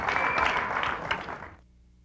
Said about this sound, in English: knew the crowd was going to applaud because they have got what they wanted